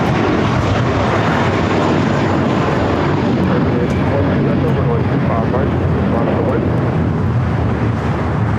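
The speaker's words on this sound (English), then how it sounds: "JetBlue A321 heading to Fort Lauderdale," A JetBlue Airbus A321 jet bound for Fort Lauderdale, heard as a loud, steady broadband roar that holds for several seconds, with wind buffeting on the microphone and a voice talking over it.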